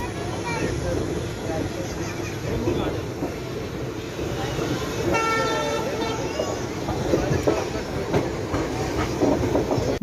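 A train from Kacheguda to Basara rumbles steadily along the tracks with a continuous low roar and faint clacking, while a voice talks over the noise.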